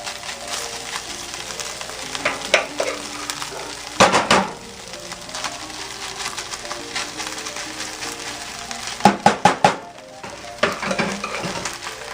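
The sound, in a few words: rice frying in a pan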